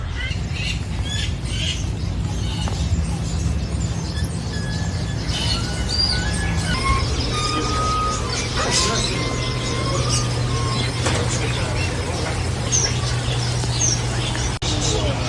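Birds chirp, squawk and whistle in a zoo aviary in Madinah, a dense chorus of overlapping calls close and far, with a steady low hum beneath throughout.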